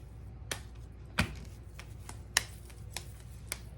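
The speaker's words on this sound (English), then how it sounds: "Just pat them out." Hands pat ground meat into patties for Salisbury steak, a handful of soft, sparse slapping taps spaced irregularly in a quiet kitchen.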